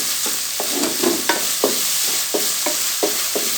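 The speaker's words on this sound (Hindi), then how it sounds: "कीमा अच्छे तरीके से भुन गया" Minced beef fries with garlic and ginger over high heat, a constant hiss punctuated by about nine regular spatula scrapes and taps against the pan, close and fairly loud.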